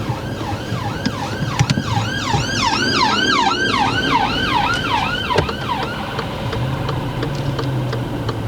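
An emergency vehicle siren wails in rapid rising-and-falling sweeps, loud and close as it passes, then cuts off, leaving the low rumble of a car interior and road noise.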